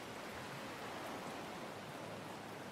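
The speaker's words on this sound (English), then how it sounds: "Rain hasn't let up." Steady rain falls in the sailing and survival video game Salt, a soft, even hiss of downpour that continues unbroken and fairly faint, with no voices over it.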